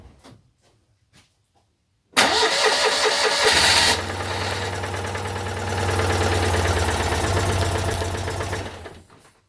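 A small engine cranked after a spark plug check catches after a short starter burst, then runs loud and steady at a rough idle for several seconds before dying away.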